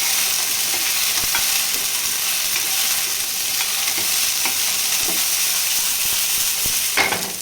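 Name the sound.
fresh green peas being roasted in a pan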